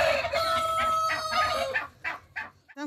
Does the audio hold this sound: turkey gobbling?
yes